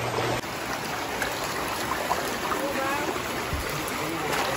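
Floodwater flows through a flooded neighbourhood street in a steady, nearby rushing trickle, with faint scattered background sounds and occasional low thumps.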